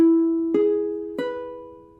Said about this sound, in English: So this is what a major triad in root position sounds like.